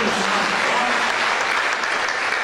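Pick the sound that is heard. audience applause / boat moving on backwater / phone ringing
audience applause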